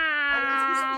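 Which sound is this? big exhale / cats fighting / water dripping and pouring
cats fighting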